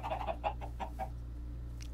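Chicken clucking in the video game Minecraft, a run of about six short clucks over the first second, fairly close and clear, then quiet with a low steady hum underneath.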